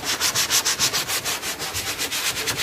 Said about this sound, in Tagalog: Nililiha na natin yung loob ng bangka